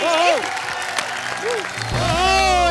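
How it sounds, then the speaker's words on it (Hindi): Studio audience of a comedy show applauding for Neeraj, a broad wash of clapping under loud voices and musical tones. "जोरदार तालियां नीरज सर के लिए"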